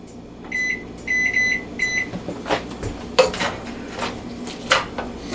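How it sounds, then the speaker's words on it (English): A kitchen timer beeps in three short bursts of repeated high electronic tones, followed by clattering pots, stirring and utensil knocks while tavern noodles with an onion mixture cook. "So I'll set another kitchen timer for that."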